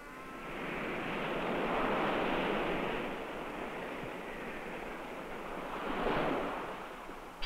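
Ocean surf washes against the shore of a solitary Pacific island, a continuous loud roar of breaking waves that swells twice, with wind rushing across the microphone and no voices.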